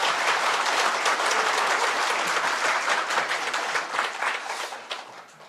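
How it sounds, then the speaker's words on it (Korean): Church congregation clapping in a dense, sustained round of applause from many hands, filling the hall and tapering off toward the end. "여러분 이미 손으로 박수를 쳐 주셨습니다"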